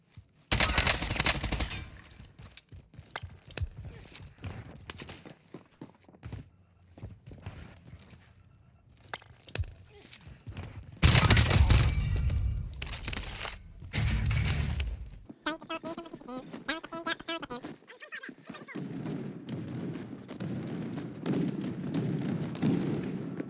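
Gunfire in a fast online shooter game, with a dense burst of shots near the start and another loud volley midway, mixed with other game effects and a voice speaking over parts of it.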